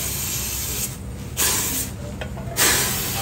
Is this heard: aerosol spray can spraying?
yes